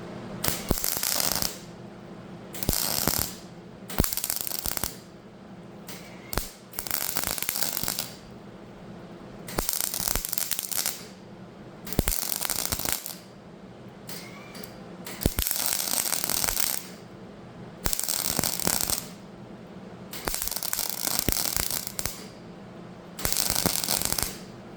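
Spot welding thin sheet metal on a McCormick W6 tractor during restoration, a steady series of close, loud crackling buzzes lasting about a second or two each, separated by short pauses, repeating roughly a dozen times.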